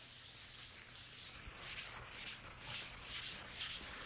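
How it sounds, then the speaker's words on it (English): Sandpaper is rubbed back and forth over the seam of a pool table's slate bed in steady, rhythmic strokes, a close raspy scraping that repeats about twice a second. "take some sandpaper or a sanding block and lightly go over the whole seam"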